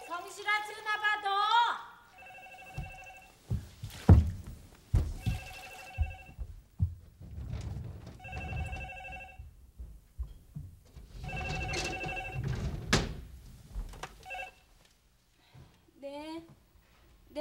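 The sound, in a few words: telephone ringing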